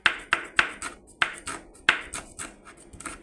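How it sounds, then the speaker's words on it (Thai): Kaffir lime leaves are chopped coarsely with a knife, giving close, sharp board strikes in an uneven rhythm, about a dozen cuts with short pauses and no voices. "เนี่ยหยาบๆไปเลยค่ะ"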